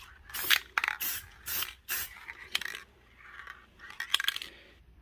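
A spray can gives several short, hissing bursts while a coat of paint goes onto car headlights, with quiet pauses between bursts and a final pair of sprays near the end.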